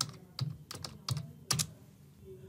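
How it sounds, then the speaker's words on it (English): Typing on a computer keyboard to enter a web address, a short run of crisp close key clicks in uneven bursts, then a brief pause. "I'm going to type pabbly.com"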